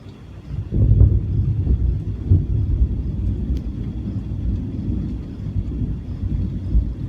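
Strange thunder during a storm, a deep low rumble that rolls on continuously with swelling surges, loud and close with no voices.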